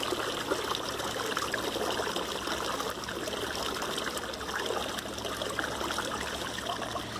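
Water trickles steadily in a solar-powered garden rock pond fed by a bilge pump, a continuous close splashing burble with no pauses and no voices over it.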